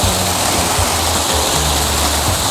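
Water pours steadily into a hand-dug pit in the ground, a dense, rushing splash like a small waterfall that holds loud and unbroken close by, with no talk over it.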